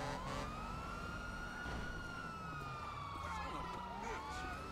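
A police car in GTA 5 with the LSPDFR police mod wails its siren in steady rising and falling sweeps, fairly quiet and continuous, under someone speaking.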